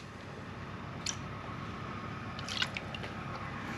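Water is poured into a container as a steady, close wash of liquid noise, with a few soft drips and splashes standing out near the start and middle.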